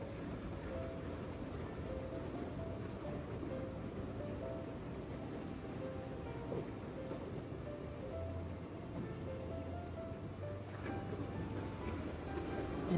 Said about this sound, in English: the sound of the ocean in the background, and these beautiful waves.